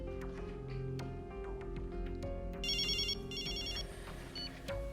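A telephone rings with a bright electronic trill in two short bursts over a steady low hum and background music, with no talking.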